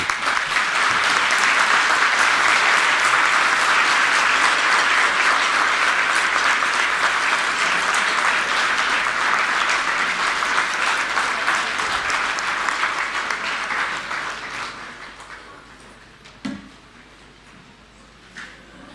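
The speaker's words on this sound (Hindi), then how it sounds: "एक बार खड़े होके पूर्व शिक्षा मंत्री मनीष सिसोदिया जी के लिए और मुख्यमंत्री साहब के लिए एक बार जोरदार ताली बजाएं।" A school audience stands and applauds loudly for an education minister and a chief minister, a dense, sustained wall of clapping that holds for about fourteen seconds before fading out, followed by a few stray sounds.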